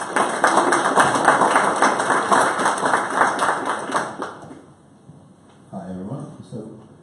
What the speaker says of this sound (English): So one round of applause for Miro and our panelists.